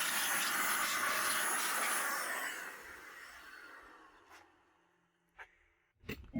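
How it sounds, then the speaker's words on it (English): Compressed air hisses steadily while dust is blown out of the inside of an HP 500B MT desktop tower, loud and broadband for about four seconds before fading to near silence, then a couple of short bursts near the end. "Dusting out the inside again one more time."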